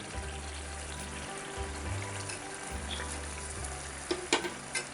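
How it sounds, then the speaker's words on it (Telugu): Fried paneer pieces added to a pan of paneer curry, giving a steady low sizzle with a few brief clatters near the end and no voices. "ఇప్పుడు ఇందులోకి మనము ముందుగా ఫ్రై చేసుకున్న పన్నీరుని ఇందులో వేసేసుకుందాం"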